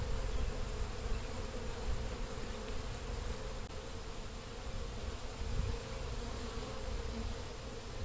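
Honey bees buzz around an open hive in a dense, steady drone, with many insects humming nearby at moderate level.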